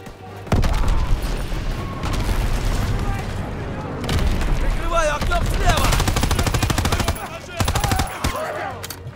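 Gunfire and explosions in the WWII shooter Call of Duty WWII, with a grenade blast among sustained loud bursts of rifle and machine-gun fire and heavy booms, a voice talking under the battle noise.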